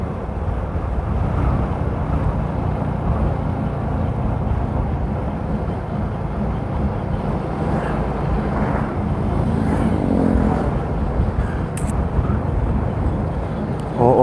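Large dump trucks and other road traffic give a loud, steady rumble with wind buffeting throughout and no clear talk.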